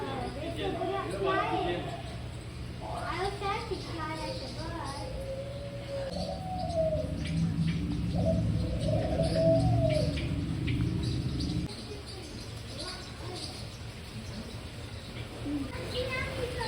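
Birds coo and chirp inside a very large indoor free-flying aviary at a bird park near Niagara. Steady pigeon-like cooing and scattered tweets fill the space while people talk over them.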